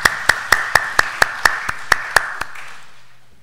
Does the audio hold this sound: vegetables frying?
no